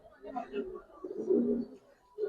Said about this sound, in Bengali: জাবরা খাকি একটা মাদি কবুতর দেখেন